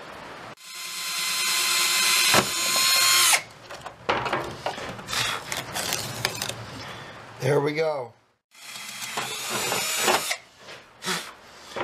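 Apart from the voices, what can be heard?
drilling holes in a license plate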